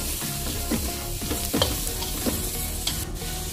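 Two medium chopped onions in coconut oil sizzle steadily while a spoon stirs and scrapes through them in repeated strokes, close and loud with no voices.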